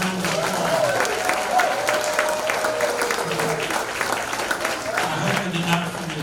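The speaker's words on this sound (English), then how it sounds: "Let's give them all a big round of applause." Steady, dense applause from an audience at an athletic hall of fame ceremony fills the room, sustained and even with a few voices mixed in.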